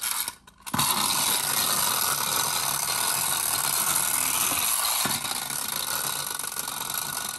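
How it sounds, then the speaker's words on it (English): The wound-up clockwork mechanism of a small cyborg toy whirs loudly and steadily up close, a buzzing gear rattle that starts after a brief pause and runs on without letup, with a slight change in tone near the end. "Let's wind him up and see what he does."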